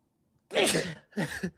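A short, sharp sneeze burst followed by a second breathy expulsion, close to the mic, after a moment of silence.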